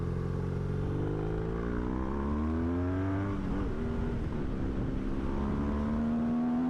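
A Porsche car driving ahead on a bumpy road, heard as a steady engine drone that rises in pitch as it accelerates, blended with the rumble of a following motorcycle.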